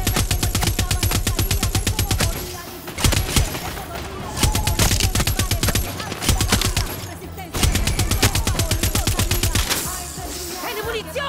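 Rapid automatic gunfire from the video game Far Cry 6, sustained loud bursts of machine-gun fire broken by short pauses, with faint speech partly underneath.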